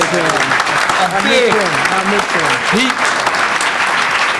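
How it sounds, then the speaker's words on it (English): An anniversary celebration audience applauds in tribute, a dense sustained wash of clapping with a voice talking over it throughout, moderately loud and steady. "But I want us to give him a big round of applause."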